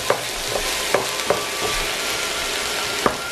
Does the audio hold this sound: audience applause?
no